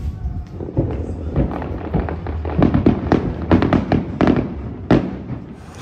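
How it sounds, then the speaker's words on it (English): Fireworks burst in the distance near a Philippine ferry terminal at night, a run of sharp cracks and thumps in irregular clusters over crowd murmur. "got some fireworks in the distance"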